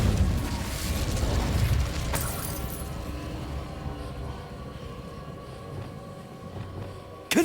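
A fire spell cast in Hogwarts Legacy: a sustained, noisy roar of rumbling flame that starts loud and slowly fades over several seconds, with a sharp burst at the very end.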